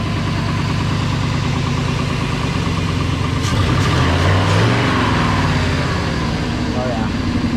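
A Ford F-250 with a 5.4 engine idles steadily up close in a loud, even rumble, with brief talk partway through.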